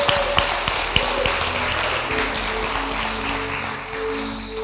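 A crowd claps for the speaker after a Tribe Talk, steady broadband applause with a few sharper individual claps standing out near the start, under a low tonal hum.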